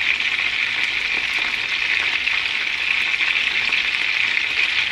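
Chicken pieces browning in hot oil in a pan, a steady, even sizzle of frying holding at moderate volume throughout, with no voices.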